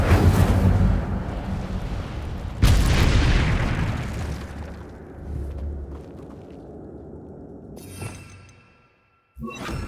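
In Hogwarts Legacy, a cast Incendio fire spell erupts with a heavy booming burst and roaring flame whoosh, then a second sharp blast that trails off into a crackling fade before a final short burst.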